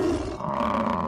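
A tiger in a 3D animal boxing video game gives a short, loud, rumbling roar that lasts about a second, with no talking over it.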